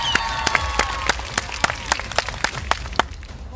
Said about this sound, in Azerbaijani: Hamı alqışlasın